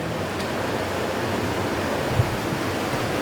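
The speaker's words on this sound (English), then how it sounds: "This is where the water leaves the facility and enters the Agawam River." Treated water from a sewer treatment plant pours out at the outfall into the Agawam River, a steady broadband rushing wash, constant and fairly loud, with no voices.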